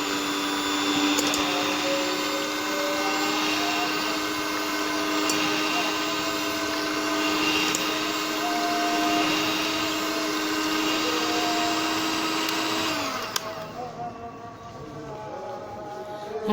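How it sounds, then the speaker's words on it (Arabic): An electric hand mixer beats eggs with vanilla, giving a steady high-pitched whine that runs loud and continuous, then drops in pitch and changes near the end. "هضربه بقى بالمضرب الكهربائي."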